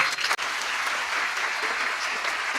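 Dense, sustained clapping from a seated audience at a motivational talk, honouring parents of several daughters, loud and continuous with no pauses.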